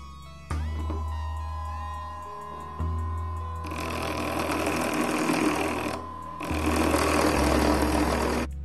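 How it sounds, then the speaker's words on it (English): A 775 DC motor with a sharpened shaft, mounted on a converted 3D printer, engraves an acrylic sheet, giving a steady close whine and buzz that shifts pitch and grows harsher in bursts as the bit cuts. "I am using a 775 motor and I have made the shaft sharp so that it can"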